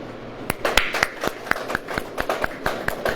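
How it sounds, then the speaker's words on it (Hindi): Hands clapping in a sharp, uneven series of about a dozen crisp claps at close range, with no talk over them. "ताली ऐसे बजती है।"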